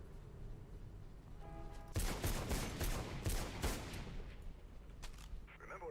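Dense bursts of automatic gunfire in the video game Mirror's Edge, loud and rapid for several seconds after a quieter start, with game voices faintly around it.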